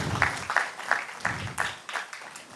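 A church congregation at a Sunday service claps together in a short, moderate round of applause, several distinct beats across a couple of seconds, fairly faint in a room.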